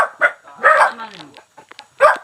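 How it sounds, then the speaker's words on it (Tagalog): Several dogs bark in short bursts at a family house in the mountains, the barks spaced out with quieter gaps and a faint whimpering tone between them. "Ano mga aso."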